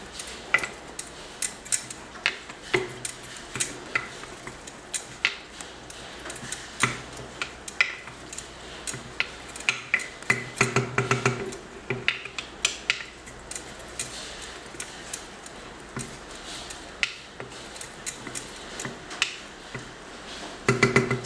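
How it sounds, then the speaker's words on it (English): Cake fruits being mixed with a wooden ladle, producing irregular sticky clicks and soft knocks against the bowl at an uneven, steady pace, close up and with no talk. "with the wooden ladle, I will again give it a good mix"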